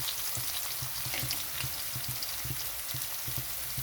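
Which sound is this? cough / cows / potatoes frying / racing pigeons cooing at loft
potatoes frying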